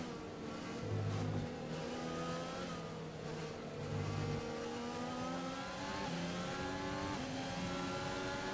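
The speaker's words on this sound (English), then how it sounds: "The soothing sounds of a Renault engine in the back of the Team Incompetent mobile." Renault-powered Formula 1 car engine in the racing game F1 2020, a steady high-pitched whine rising and falling through gear changes, with brief lower buzzing tones near the start, continuous and prominent with no talking.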